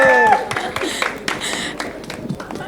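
Audience clapping for guests at a press conference launching a drama series, a short burst of scattered handclaps that thins out over a few seconds, with a voice briefly heard at the start.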